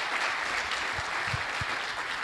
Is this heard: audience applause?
yes